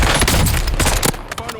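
Loud bursts of rapid automatic gunfire in Call of Duty Warzone, sharp cracks stacked close together then thinning into scattered shots, with no voices over it.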